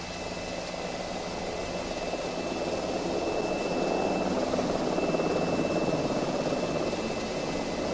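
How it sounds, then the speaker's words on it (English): A Black Hawk helicopter in Microsoft Flight Simulator 2024 gives a steady, dense rotor and turbine drone that swells slightly louder midway, with a thin high whine on top and no voices. "That's Stu's helicopter sound. That's really loud. That's the Black Hawk."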